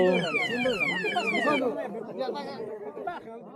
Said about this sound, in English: that did mean knocking into a motorbike and setting off its alarm